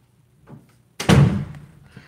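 A household door swings shut with one loud, close slam and a brief resonant tail, preceded by a faint soft bump.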